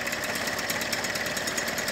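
An old 1980s Piaggio SI moped engine keeps running on its own at a steady pace, a close, buzzing small-engine drone with a fast, even pulse and no voices over it.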